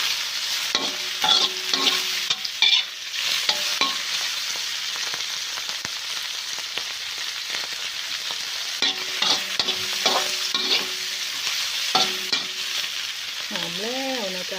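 Minced pork stir-fried in a wok, a steady sizzle of frying with the scrape and clatter of stirring throughout, close and fairly loud with no talking.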